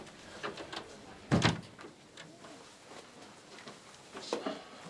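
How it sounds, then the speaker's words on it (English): An office door in a police station closes with a single solid thud amid quiet room tone and faint movement. "Close the door."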